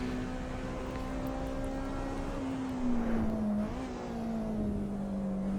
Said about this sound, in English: did you hear those downshifts? Ah, you can hear the tires screeching.